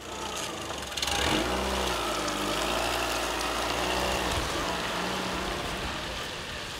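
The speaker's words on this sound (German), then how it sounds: "Jetzt fährt er zu Verwandten." A car pulls away during severe flooding in Lower Saxony, its engine revving up after a second and then holding a steady mid-pitched drone as it drives off. Faint rain-like hiss sits underneath.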